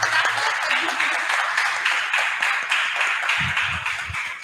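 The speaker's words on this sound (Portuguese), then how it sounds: "Podemos aplaudir." A church congregation at a prayer service claps together in a steady patter of many hands, with low murmurs near the end.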